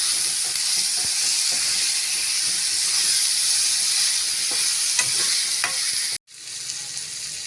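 Drumstick pieces frying in spiced masala in a pan give a steady, loud sizzle and hiss while they are stirred, broken by a brief silence near the end before the sizzling resumes.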